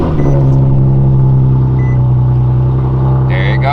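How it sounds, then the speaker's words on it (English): An Infiniti G37 engine idles with a steady low rumble right after starting, following a battery fix, loud and close throughout with a brief higher chime near the end. "Now it's time to start the car."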